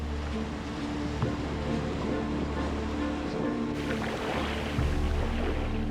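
Ocean waves break along a rocky shore on a fishing trip in Guinea, a steady loud surf roar broken by wind gusts.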